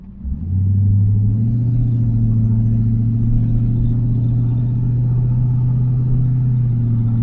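A 1985 Camaro IROC-Z engine idles steadily, a loud, close, continuous low rumble that holds even throughout with no revving and no voices.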